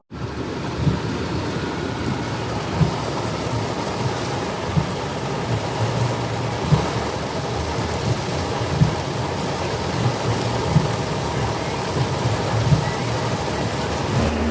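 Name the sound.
thunderstorm with heavy rain and thunder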